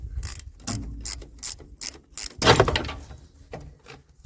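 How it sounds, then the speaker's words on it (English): Ratchet works a nut off the strut of a 1991 Ford F-150, with several short bursts of rapid clicking and a few clanks in between, heard close up. "And then I just have to get the nut off of the strut."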